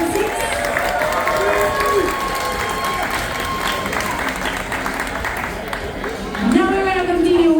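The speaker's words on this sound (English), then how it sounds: "please a round of applause for deck number 6" Cruise ship passengers gathered for a deck party game applaud and cheer for their deck, a busy crowd roar of clapping mixed with whoops and excited voices, holding fairly loud throughout with a swell near the end.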